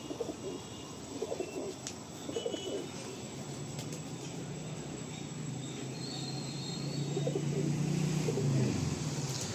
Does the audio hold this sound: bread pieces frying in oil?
no